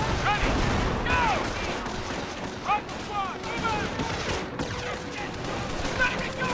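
Soldiers' gunfire in the Company of Heroes video game, dense overlapping rifle and machine-gun shots in rapid bursts, loud and close, with whistling ricochet-like tones and distant booms.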